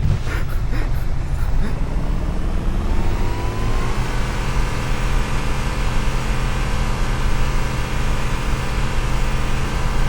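An off-road vehicle's engine in the video game Halo: Combat Evolved accelerates. A few quick clicks come first, then a loud, steady motor drone climbs in pitch and holds for several seconds.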